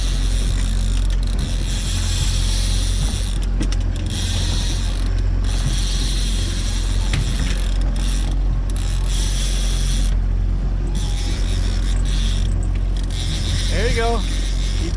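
A fishing reel's drag ratchets in a fast, unbroken stream of clicks as a hooked salmon pulls line, loud and steady for the whole stretch, with voices in the background.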